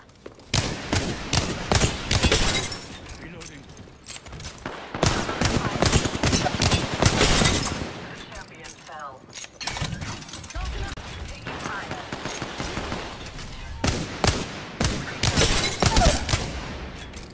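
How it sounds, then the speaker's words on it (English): Dense, rapid gunfire erupts in a ranked video game match, with sustained automatic bursts and overlapping shots, loud and continuous with short gaps throughout. "Opening fire."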